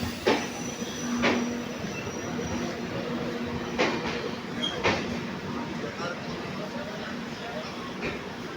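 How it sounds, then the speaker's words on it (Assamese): A Jammu Tawi–Guwahati Express pulls into Guwahati station, with a steady rolling rumble, a few sharp metallic clanks and squeals, and station ambience throughout at moderate distance. "এখন সোমাইছে গুৱাহাটী জম্মু টাৱিৰ পৰা অহা গুৱাহাটীলৈ।"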